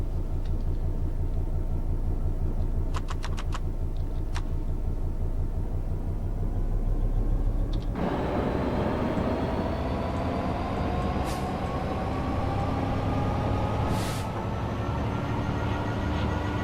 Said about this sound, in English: There's a cooler fan going.